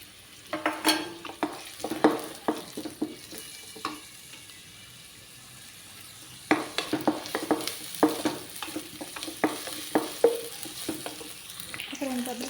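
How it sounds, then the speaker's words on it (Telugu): Chopped onions and green chillies frying in a pan, with repeated scraping strokes of a stirring utensil over a steady sizzle, briefly pausing midway before the stirring resumes. "ముందుగా అయితే ఉల్లిగడ్డలు వేసేసుకుంటున్నాను, కట్ చేసుకున్నవి."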